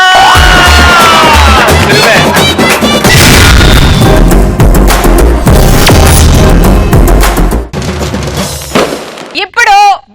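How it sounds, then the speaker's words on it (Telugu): Loud studio audience applause and cheering on a Telugu TV comedy show, a dense sustained roar with crowd noise and booming effects throughout, with sound effects and brief voices near the end. "Let's give Hari a big round of applause."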